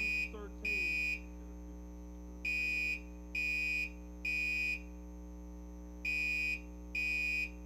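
Alarm sounding during a talk: a repeating electronic buzzer tone in clear bursts of roughly half a second, steady and fairly loud over a low hum, with no one talking.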